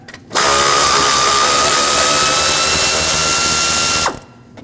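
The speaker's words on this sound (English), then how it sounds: "you'll see a 10mm headed screw. Remove that." A powered ratchet removes a 10mm screw from the upper radiator support of a 2013-2019 Ford Escape, giving one loud, close, continuous whirring buzz of about four seconds with sharp starts and stops.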